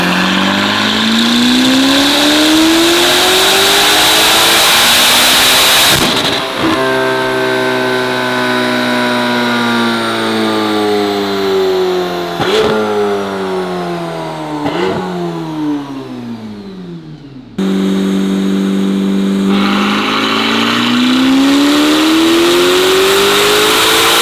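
A Corvette ZR1 on a dyno with a stage 2 cat, its engine revving hard and climbing through gears in repeated loud, rising sweeps, then cutting off briefly before winding up again.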